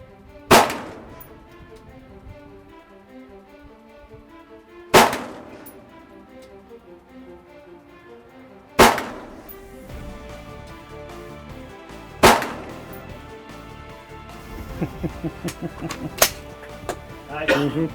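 Gunshots at an Army marksmanship competition on a target range, four loud sharp reports spaced a few seconds apart, each ringing off, followed by quicker smaller cracks near the end, with people talking between shots.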